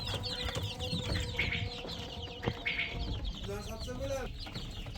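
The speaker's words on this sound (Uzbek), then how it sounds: "Jo'jalarimiz do'stlar" Adler silver chicks about 25 days old peep in a dense, overlapping chorus of high chirps, with a voice talking over them partway through.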